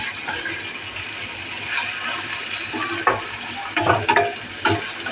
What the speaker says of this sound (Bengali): তাই এই যে বিনা আলু ছাড়া আজকের পটল তোমাদের ভেজে দেখাচ্ছি